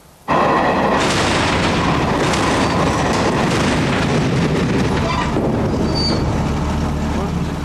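A sudden loud impact from a train crash test collision opens into a heavy, sustained rumble and grinding of rail cars, continuing strongly for several seconds.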